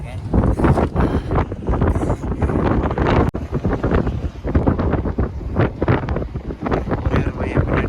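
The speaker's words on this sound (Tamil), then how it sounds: "அதனால் காற்று பயங்கரமாக அடிக்குது" Strong wind buffeting a microphone on a small boat, heavy rumbling gusts that swell and fade nonstop, loud and close, with a voice talking underneath.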